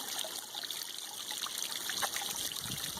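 Spring water trickles continuously out of a mountainside on the Appalachian Trail near Unicoi Gap, a close, even babbling with small splashes and no talk.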